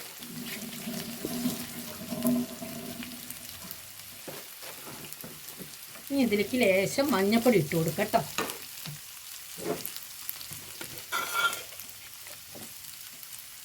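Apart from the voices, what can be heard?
onions, green chili and ginger sautéing in a pan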